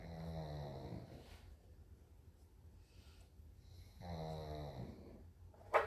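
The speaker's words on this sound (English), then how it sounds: "Annalisa, the dogs are snoring." Two sleeping dogs snore close by in slow, rhythmic cycles. There are two clear rasping inhale snores with quieter breathing between them and a small snort at the very end, with no talking.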